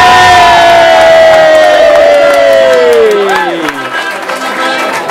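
Loud crowd cheering and shouting at a ski race prize-giving in Soldeu, with excited voices and whoops up close and scattered claps mixed in, fading slightly toward the end.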